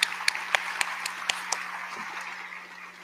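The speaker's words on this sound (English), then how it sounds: "Can we please give them a round of applause?" At a National Honor Society induction ceremony, scattered handclaps from a small audience honour the advisors. There are about a dozen distinct, fairly faint claps in quick succession before they trail off into a quiet room.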